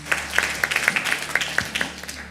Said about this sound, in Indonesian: Tepuk tangan buat Tuhan Allah kita.